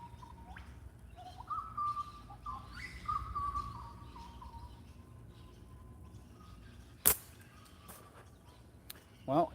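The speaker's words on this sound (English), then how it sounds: "I know you want to listen to all the weird birds making strange noises." Australian birds call in the early morning: faint, sparse whistles and chirps over a quiet low background hum, with a couple of sharp clicks late on.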